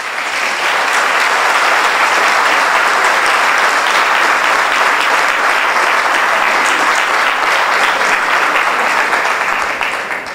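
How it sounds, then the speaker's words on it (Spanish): Loud, sustained applause from a crowd at a Saturday Inmunotech training session, a thick unbroken wash of clapping that stays at full strength from start to finish before easing slightly at the very end. "Un aplauso para nuestros líderes."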